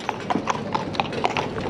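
A cob horse trotting, its hooves striking in a quick, even clip-clop of about a dozen close footfalls.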